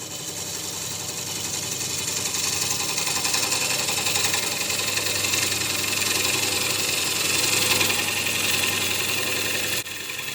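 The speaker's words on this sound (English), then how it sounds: "That gouge, or that grind, that technique tears fibers a lot, but it removes wood very efficiently." Steady mechanical whir of a wood lathe spinning while a gouge rough-turns the outside of a wooden bowl, a continuous loud drone with scraping cutting texture throughout, briefly dropping near the end.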